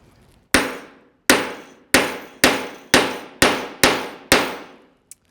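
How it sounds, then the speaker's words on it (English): Eight loud, ringing clangs of a heavy hammer on metal, struck at a steady pace, each blow decaying briefly before the next. "I have a big, nice, heavy hammer, and I'm just gonna hit it."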